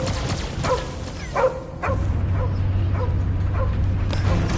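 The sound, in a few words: dog barking in video game Guardians of the Galaxy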